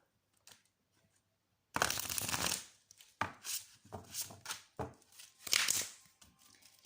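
Oracle cards being shuffled by hand: after a quiet start, a series of close riffling, flapping bursts in uneven rhythm, fairly loud and without speech.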